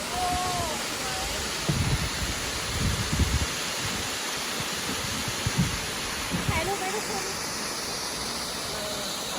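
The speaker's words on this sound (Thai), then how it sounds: "อันนี้เป็นน้ำตกนะคะ" A forest-valley waterfall gives a steady, distant broadband roar that fills the whole stretch, with faint speech and footsteps-like bumps occasionally over it.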